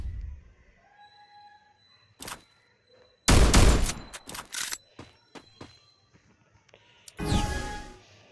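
Gunfire in a Free Fire 1v1 mobile match: a single shot, then a loud burst followed by several spaced sharp shots and a final heavy volley, close and punchy over faint game ambience.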